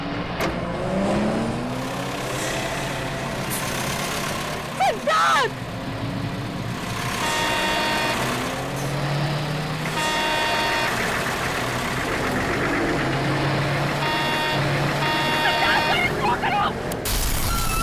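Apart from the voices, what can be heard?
car engine while driving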